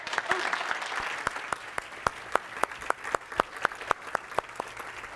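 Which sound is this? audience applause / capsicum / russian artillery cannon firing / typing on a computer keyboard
audience applause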